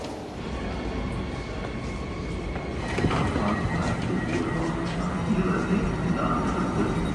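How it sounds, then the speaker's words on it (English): Berlin S-Bahn train moving in and out of Alexanderplatz station, a low rumbling rail roar that swells partway through with faint screeches, heard from a distance within steady station ambience. "I could see the trains from above going like in and out of the station"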